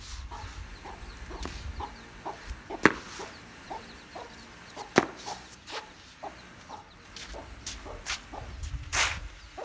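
A hen with small baby chicks clucks in short, scattered bursts, fairly close and moderately quiet, with a few sharp louder clucks standing out against a low background rumble and no talking.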